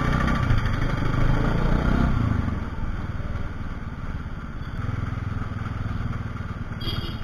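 Steady motorcycle engine drone while riding on the road to Tezpur, with a constant low rumble and road noise, close and fairly loud throughout.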